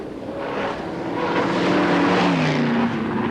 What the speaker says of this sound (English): In Scrub near Canberra, the original GT was taken for a bit of a spin to blow out the cobwebs